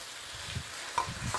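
Onions dropped into a hot pan with pork and cumin, giving a soft sizzle and a few low stirring scrapes, quiet and close with no talking.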